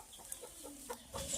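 Aseel chicken on a Kerala poultry farm giving soft, scattered clucks from inside its coop, faint and close, with a few brief sharper calls against quiet background noise.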